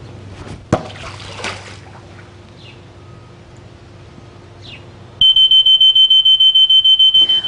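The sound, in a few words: Poolguard pool alarm going off after ball thrown into water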